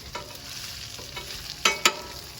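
Pastrami sizzles on a flat griddle as its fat renders, a steady frying hiss with a few sharper pops and spits near the end, close up with no voices.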